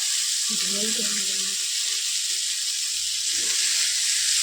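Whole peas, already washed, go into a hot pan for a ghugni curry and set off a steady, close sizzle and hiss that runs the whole time, with a brief clatter early on.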